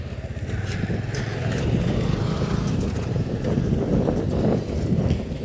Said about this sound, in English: It's windy and it's also very cold.